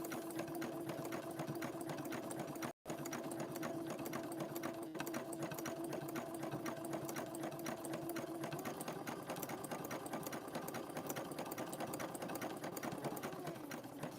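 A sewing machine runs steadily, stitching teal thread through fabric-wrapped rope to form a bowl, its motor humming with a rapid, even needle chatter that continues with one brief pause near the start.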